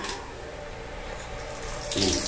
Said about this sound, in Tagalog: Tumutulo na.